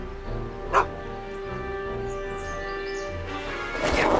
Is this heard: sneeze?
no